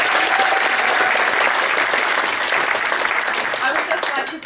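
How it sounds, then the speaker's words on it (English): Sustained audience applause at a Rose of Tralee event, dense and steady clapping from a large crowd, loud throughout and tapering slightly at the end. "please give her a huge round of applause"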